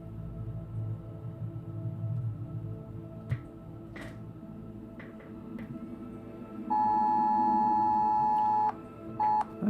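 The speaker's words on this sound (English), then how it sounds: "And now I just got a child alert on my phone." A phone's emergency child alert tone sounds as a loud, steady electronic beep, one long sustained blast followed by two shorter ones, cutting over soft background music and wind noise in a room.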